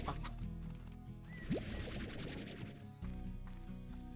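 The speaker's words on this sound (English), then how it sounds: "And then we'll go get some chickens out of the coop" Chickens cluck in the video game Slime Rancher near a coop, with short clucks and squawks running steadily over a dense, busy game soundtrack, fairly loud and close.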